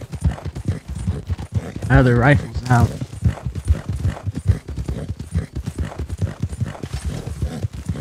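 Horse hooves clip-clop at a steady gallop in the Red Dead Online video game, a rhythmic pounding running throughout beneath frequent talk, with a brief horse whinny partway through.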